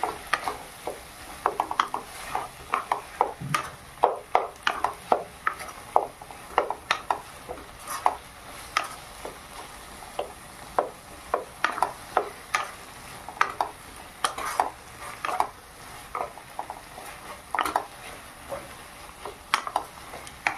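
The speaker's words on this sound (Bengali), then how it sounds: "একটু নেড়ে চেড়ে নিলাম।" A utensil stirs khapra greens with potato and poppy seed in a wok: a steady run of close scraping and clinking strokes over a soft sizzle, with no talking.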